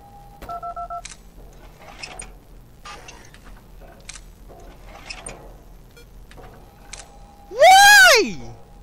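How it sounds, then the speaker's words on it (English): A telephone in the video game Five Nights At Candy's 2 gives a short pair of dialing tones near the start, followed by faint clicks and a loud rising-falling electronic tone near the end. "You had a phone call."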